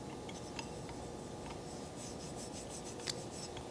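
A hand rubs the smooth, shallow steel knurling on the grip of a Pentagon Smith machine bar, making faint, close, scratchy rasping strokes with a few small ticks, alone and quiet.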